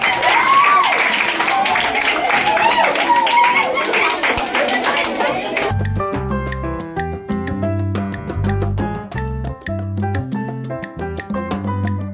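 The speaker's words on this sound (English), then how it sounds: "can we give her a hand clap for the birthday?" Classmates and teachers clap their hands for a birthday girl at a school in Africa, a dense burst of clapping and chatter that stops abruptly and gives way to loud music.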